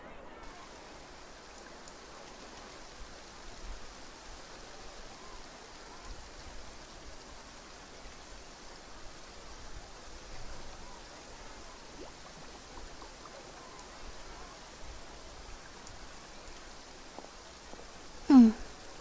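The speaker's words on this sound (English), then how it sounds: "Looks like rain." Steady, soft rain falls in Genshin Impact's Fontaine region, a faint, even hiss with no breaks, closed by a brief sharp sound at the very end.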